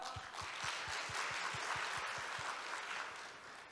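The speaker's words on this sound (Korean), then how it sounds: "우리 박수로 함께할까요?" The audience at the opening ceremony of the 2021 Society of Naval Architects of Korea autumn conference applauds, a steady patter of many hands, faint and distant in a large hall.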